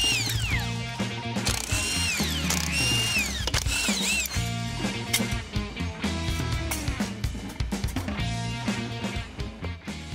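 Tools rattle and ratchet while the wheels and tires come off a 1970 Ford Bronco, with quick clicking bursts and clanks over a steady mechanical bed, close and moderately loud.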